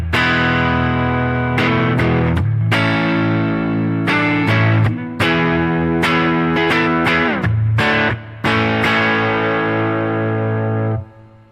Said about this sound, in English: I've got the distortion or overdrive effect here on the mesa and the actual amp driven on the deluxe